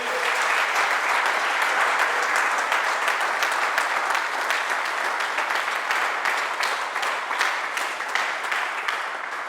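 A church congregation breaks into sustained applause during a sermon, with steady, loud clapping from many hands blending into a continuous wash that holds level throughout and fades only slightly near the end.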